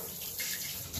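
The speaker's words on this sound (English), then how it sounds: "I've just rinsed off the shampoo." Running water from a tap pours steadily while a Shih Tzu is rinsed of shampoo during grooming, a close continuous splashing gush that swells briefly partway through.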